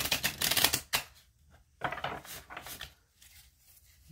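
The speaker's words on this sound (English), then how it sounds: "I'm going to shuffle a couple more times." Tarot cards being shuffled by hand, with bursts of crisp riffling and rustling separated by short pauses, close and fairly quiet, no talking.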